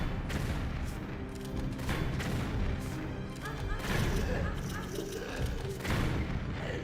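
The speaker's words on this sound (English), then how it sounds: "how about I go close quarters with the rocket launcher" Rocket launcher blasts at close quarters in Tomb Raider III Remastered, heavy booming explosions and crashing impacts rolling continuously and loudly over a dense, noisy game mix.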